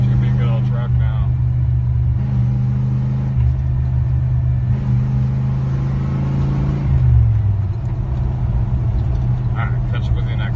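Chevy OBS pickup truck running on a swapped-in carburetor in place of throttle-body injection, engine droning steadily while driving, with a deep rumble and a brief rev change partway through, loud and close with voices talking over it.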